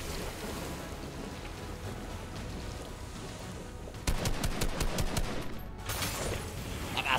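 Gunfire in the video game Fortnite: a steady clattering barrage under rain-like noise, then a burst of sharp, rapid shots around the midpoint that keeps going loud to the end, with no talk.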